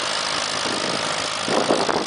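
An antique Allis-Chalmers WD tractor engine runs steadily at a tractor pull in Havana, Illinois, a loud, close, rough mechanical roar that swells and revs harder near the end, with no voices.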